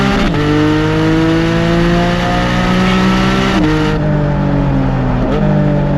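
A Porsche Cayman GT4 or Lotus Evora GT sports car accelerates hard, engine pitch climbing steadily through the revs with two sharp drops at upshifts, loud and close from inside the cabin with no talk.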